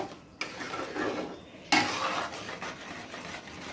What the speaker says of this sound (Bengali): এরপরে এটাকে একটু নাড়বো